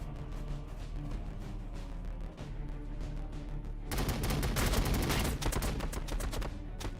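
Gunfire in the video game Warhammer 40,000: Battlesector comes as dense, rapid automatic bursts. It rattles steadily at moderate level, then grows noticeably louder and heavier about halfway through before easing slightly near the end.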